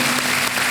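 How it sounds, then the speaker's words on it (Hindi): Studio audience applause on the Kaun Banega Crorepati quiz show after a correct answer, a brief, loud, dense burst of clapping with a faint steady tone beneath. "बहुत सारी तालियां बज गई पहले से ही"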